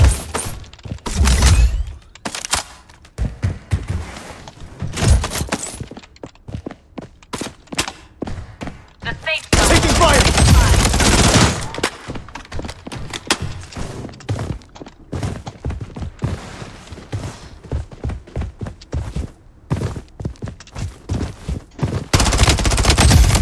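Dense gunfire in the mobile shooter Bloodstrike on PC, with rapid volleys, single cracks and sharp impacts in near-constant bursts, plus a heavy sustained blast midway, under intermittent talk.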